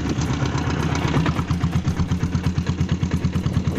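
A Royal Enfield diesel Bullet motorcycle engine runs close by with a steady, rapid thumping beat and mechanical clatter, loud and even, with no talking.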